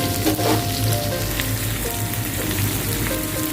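Onions, green chillies and whole garlic cloves frying in oil with a little salt while a dried-fish curry is prepared; a steady, dense sizzle and crackle runs throughout with no voices.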